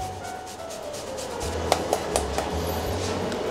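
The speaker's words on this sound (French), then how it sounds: "Là j'utilise aussi du gingembre, donc là pelé, et on va aussi le râper." Peeled fresh ginger rasped against a kitchen grater, soft repeated scraping strokes with a few light knocks, close and fairly quiet with no voices.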